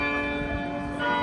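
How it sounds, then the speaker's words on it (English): Church bells ring from a tower at Yale University's Branford College, a sustained metallic chime with long ringing overtones that carries clearly, with no talking. "And the chimes sounds is also very beautiful."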